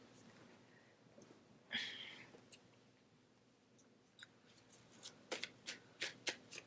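Tarot cards being shuffled by hand, a soft riffle near the start followed by a run of crisp, rapid card flicks and snaps toward the end, close and fairly quiet with no talk.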